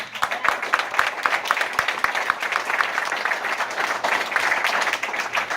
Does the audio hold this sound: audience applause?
yes